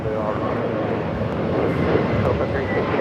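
A commercial airliner takes off at Los Angeles International Airport (LAX), heading north, its engines producing a steady, broad roar that holds loud and constant throughout, with faint radio chatter underneath.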